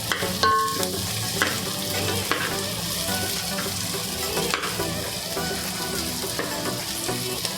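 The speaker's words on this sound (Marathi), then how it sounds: "मिरच्या पण चांगल्या फ्राय करून घ्यायच्या, असं फ्राय करतात तसं चांगलं तळतात तसे" Green chillies frying in hot oil in a pot for vegetable pulao, a steady close sizzle with the clink and scrape of a stirring spoon, no talk.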